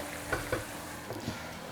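Blanched tofu with a little water and salt cooking in a covered pan, a low steady sizzle with a couple of faint knocks, quiet and continuous.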